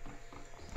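Hooves clip-clopping in a video game, the horse running in a short rhythmic series of thuds over background game sound.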